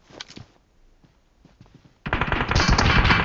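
Gunfire in PUBG Mobile, with a few scattered shots and then a sustained loud burst of automatic fire that runs to the end, sharp and close-sounding.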